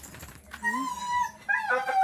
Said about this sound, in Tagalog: Mga aso ko guys maingay. Gusto magpapakawala.